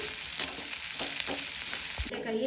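Ivy gourd (tondekai) fries in a pan for chutney, with a steady close sizzle broken by occasional scraping stirs of the pieces. No one speaks.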